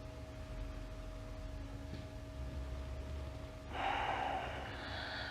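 During a live-streamed yoga class, a low steady hum gives way to a sudden, louder airy rush of breath near the microphone, sustained for about a second and a half.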